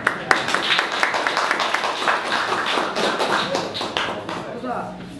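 Audience clapping and tapping at a poetry evening (sarau), a dense stretch of claps and taps running steadily throughout, with some voices mixed in.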